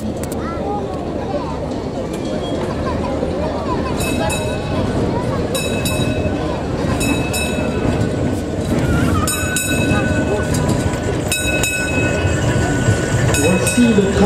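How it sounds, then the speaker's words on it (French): Historic 1903 Brussels tram number 428 rolling steadily on rails, a continuous rumble with repeated bright wheel squeals and clicks, heard close and loud throughout, with a voice speaking over it. "Voici le tram 428 qui date de 1903."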